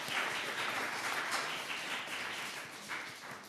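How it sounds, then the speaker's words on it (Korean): A church congregation applauding during an Easter Sunday service, steady, soft clapping from many hands that fills the room evenly, with no voices over it. "또 우리 옆에 함께 예배에 참여하던 모든 분들을 박수로 환영하며 축복했으면 좋겠습니다"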